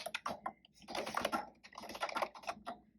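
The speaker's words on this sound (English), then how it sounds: "And I really love the way it sounds" Quiet, quick typing on an Uhuru ergonomic wireless keyboard, soft clicks in an uneven rhythm, close by and alone.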